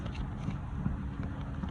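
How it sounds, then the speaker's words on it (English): Wind blows outdoors on a very windy day, buffeting the microphone as a constant low rumble with no other clear sounds. "it's really windy here today"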